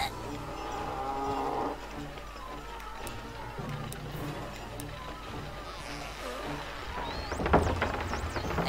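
Cattle lowing in the South Park video game The Stick of Truth, a sustained moo rising at the start over music, with a voice speaking over the game soundtrack and a sharper burst of sound near the end.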